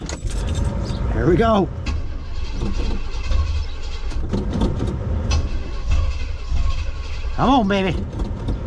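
Hot rod wagon engine cranking with no fuel in the carb: a starter whines in two bursts over a steady mechanical rumble, close and loud, while someone speaks briefly.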